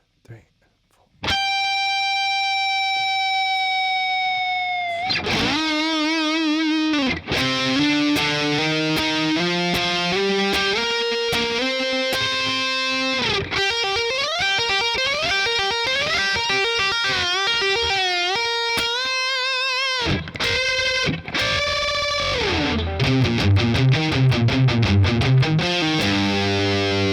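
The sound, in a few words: distorted electric guitar solo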